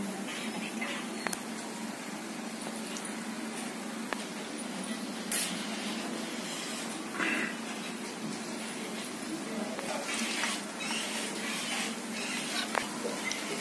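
Street-style aloo pakodi, potato and batter fritters, fry in hot oil with a continuous close crackling sizzle. Small pops and spatters rise above it now and then.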